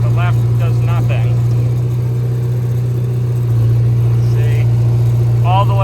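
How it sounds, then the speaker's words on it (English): A Komatsu D31S track loader, revived after sitting more than ten years with a working right steering brake and a dead left one, runs with a steady, loud diesel drone throughout while a voice talks over it at intervals. "we have it moving again, but it only the right steering brake works"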